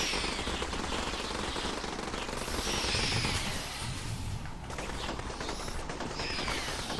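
A rapid-firing gun in the alien-bug shooter game Dropship Down rattles out continuous automatic bursts, dense and steady, with brief surges in intensity throughout.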